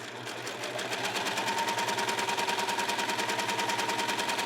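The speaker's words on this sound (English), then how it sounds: "we can just run our tool straight through the machine, and it will gather perfectly spaced gathers all the way along" A sewing machine gathers tulle fabric in a loud, close, continuous run of rapid, evenly spaced needle strokes that hold steady throughout.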